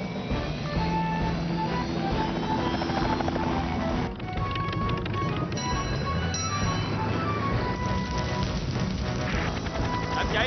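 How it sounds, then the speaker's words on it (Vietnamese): A cartoon helicopter flies with a steady whirring rotor beat over a busy soundtrack, heard during a firefighting rescue at a forest fire in the mountains near a campsite. "Tập trung lực lượng gọi Tom lái trực thăng lên đó ngay."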